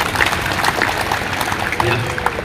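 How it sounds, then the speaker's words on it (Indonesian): A crowd at a morning civil-service assembly in Kupang, NTT claps in a scattered, fairly steady patter, with voices and some talk mixed in underneath. "Saya tepuk tangan dulu."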